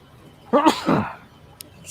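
A single sharp sneeze bursts out indoors in a quiet room, abrupt and fairly loud, followed by a brief soft tail.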